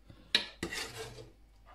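Shrimp soup is ladled into a dish, giving two sharp clinks of a utensil against crockery, then a soft scraping slosh that fades away. It is quiet and close, with no talking.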